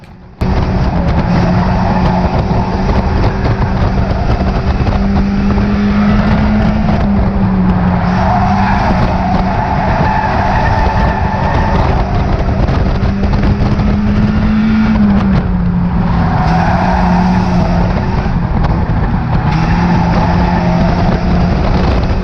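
Loud, steady roar of stock car engines droning around an oval track, with rising and falling pitch as cars pass, continuous throughout.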